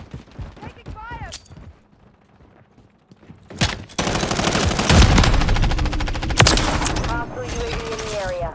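Sustained automatic gunfire in the online shooter Call of Duty Modern Warfare, a loud close rattle of shots that starts after some quieter game sounds and in-game voice lines and continues to the end.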